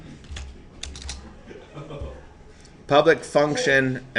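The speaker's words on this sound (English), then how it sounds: "then I typed in rand" Computer keyboard keys clicking in short bursts while code is typed in Visual Studio 2010, fairly quiet, before a voice begins talking over the last part.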